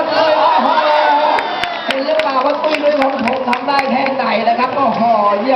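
A crowd claps and cheers at a chinlone cane-ball performance by a troupe from Mandalay, loud continuous crowd noise with shouts and scattered sharp claps under a voice.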